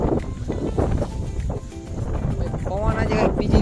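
Strong wind buffets the microphone outdoors, a loud rumbling roar that pulses throughout, with someone talking over it.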